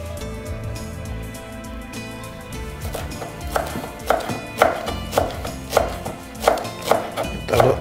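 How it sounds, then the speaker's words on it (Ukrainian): Parsley being coarsely chopped with a knife on a board, heard as a run of sharp, evenly spaced chops that starts after a few seconds and continues at a steady rhythm, close by, over a background of low music. "Так, грубше нарізаємо."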